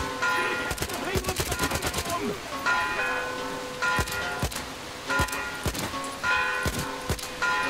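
Bursts of rapid gunfire crackle in short volleys with sharp individual shots between them, in the video game Metro: Exodus, mixed with game sounds and occasional speech.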